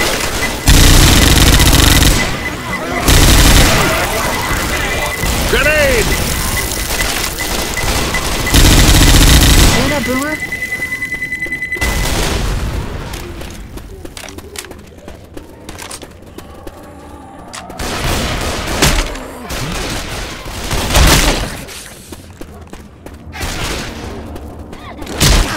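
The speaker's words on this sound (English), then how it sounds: "Grenade!" A Left 4 Dead 2 firefight with a grenade explosion and repeated bursts of gunfire, loud and close, together with the game's background sounds and people talking over the action.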